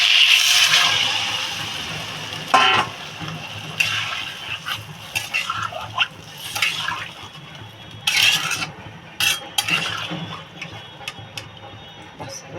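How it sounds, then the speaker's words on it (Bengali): Water is poured into a pan of taro stem curry after the spices have been fried down, a splashing pour at the start followed by clattering pot and utensil knocks. "এবার আমি জল দিয়ে দেবো পরিমাণ মতো"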